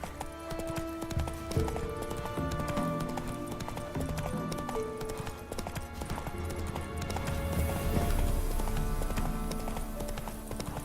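A horse gallops in The Witcher 3, with rapid hoofbeats running steadily beneath game music and ambience, rising slightly louder toward the end.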